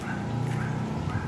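One-month-old puppy giving soft yips, whimpers and small barks, close and continuous over a brief stretch.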